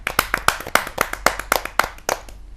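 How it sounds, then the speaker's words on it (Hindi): Audience applause welcoming a young poet at a Hindi kavi sammelan gathering, rhythmic hand claps repeating steadily for a few seconds, fairly close and crisp, with no talk. "जोरदार तालियों से स्वागत कीजिए इस युवा कवि का"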